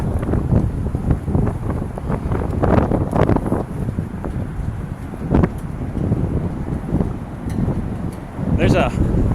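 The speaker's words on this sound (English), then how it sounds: "Assuming you can hear me at all over this wind." Strong wind buffets a microphone outdoors on a warm windy walk near Bridgewater Place and the Blue Bridge, loud gusty rumbling throughout with a voice partly buried beneath it.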